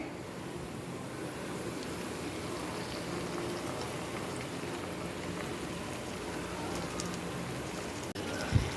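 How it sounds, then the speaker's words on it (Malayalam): Rested marinated chicken for hariyali chicken cooks in a pan, giving a continuous soft bubbling sizzle that keeps an even level until a brief clunk near the end. "ഇനി ഞാനിത് പാനിലോട്ട് ഇടുവാണേ."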